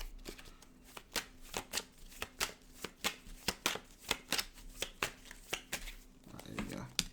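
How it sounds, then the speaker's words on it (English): Cards being riffle-shuffled in quick, crisp bursts, a steady run of snapping flutters close by, with a voice speaking faintly underneath. "one more shuffle"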